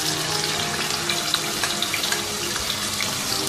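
Marinated chicken drops into hot oil in a wok, giving a steady, even sizzle and crackle of frying that holds at a constant level without talk.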